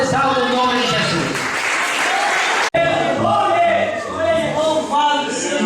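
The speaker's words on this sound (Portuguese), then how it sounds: "que as palmas exaltam o nome de Jesus" Church congregation applauding during a service, a full sustained wash of clapping with voices underneath, briefly cut off midway before resuming.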